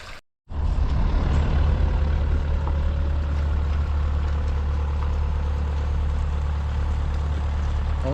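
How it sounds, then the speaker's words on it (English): A tractor engine runs steadily close by on a hay field while a dike is built, a loud continuous low rumble starting after a brief gap and holding constant. "Oh yeah, got a little tractor action for you today."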